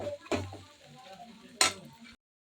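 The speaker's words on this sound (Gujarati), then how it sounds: "હવે આપણે નાખીશું પૌવા. એને પણ આપણે મિક્સ કરી દઈએ." Poha (flattened rice) is stirred in a pan, with a couple of sharp spoon scrapes against the metal and a quiet soft shuffling between them, close and faint.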